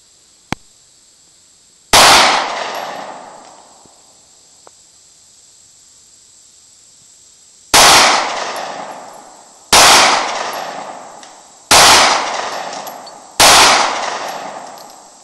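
Five sharp, loud 9mm pistol shots from a Taurus PT111 G2, fired outdoors with irregular gaps: one isolated crack, then four in quicker succession, each followed by a decaying echo, over a steady high insect-like hiss.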